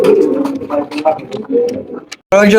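A lively pair of big Lakha pigeons coos in low, throaty, close calls, mixed with a voice, ending in a sudden loud burst.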